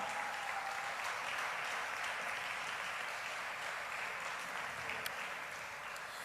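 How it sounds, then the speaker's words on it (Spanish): Continuous applause fills a church service as the congregation claps for God, a dense, even wash of many hands at moderate loudness throughout. "Démosle palmas a nuestro Dios."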